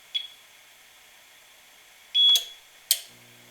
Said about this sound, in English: You have to hold it in until it beeps and then quick let go.